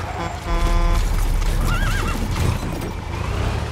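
A horse in the Metal Gear Solid V video game whinnies loudly with a wavering neigh, over close clip-clopping hooves and other game sounds.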